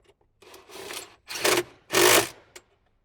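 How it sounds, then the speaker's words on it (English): An 8mm socket drives a bolt into the bottom of a speaker pod housing on a 2007–2014 Jeep JK Wrangler dash, heard as three close, gritty ratcheting bursts that grow louder, separated by short pauses. "switch over to our 8mm and get our bolt into the bottom of the speaker pod housing"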